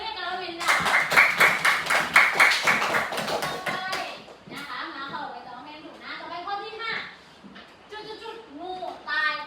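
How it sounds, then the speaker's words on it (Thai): A classroom of second-grade children clap together in a brisk, loud burst of rhythmic hand claps for a classmate, then the clapping stops and a teacher's voice and children's voices carry on talking. "เอาปรบมือให้นักเรียนค่ะ"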